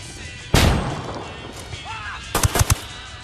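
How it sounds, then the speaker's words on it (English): Flashbang grenade thrown and going off in the Ghost Recon Wildlands game, one sharp loud bang with a ringing tail, followed by a quick burst of gunshots. "Throwing a flashbang."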